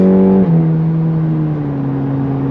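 Loud, close engine roar of a 2023 Cadillac CT4-V under heavy throttle, with a gear shift and steady high revving afterward.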